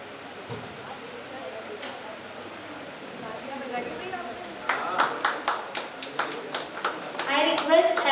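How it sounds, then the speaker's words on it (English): A handful of sharp hand claps from a conference audience at a management school, arriving after a stretch of speech and growing into a scattered, uneven patter toward the end. "please give a round of applause for participants"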